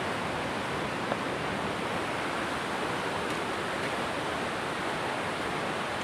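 River water flowing steadily beside a forest path in rural countryside, a constant broadband rush with no breaks, moderately loud and alone without voices.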